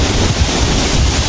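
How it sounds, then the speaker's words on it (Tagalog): Strong seaside wind buffets the microphone at an Australian campsite, a loud, dense roar of gusts and surf-like rushing filling the brief moment with no voices. "Dagat na, kaya malakas yung hangin dito."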